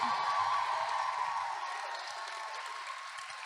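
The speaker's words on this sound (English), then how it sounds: "please give a huge round of applause to ma'am." Audience applause and cheering at a school gathering, a dense broadband clatter of many hands that starts full and fades slightly over a few seconds, with scattered whoops and faint voices underneath.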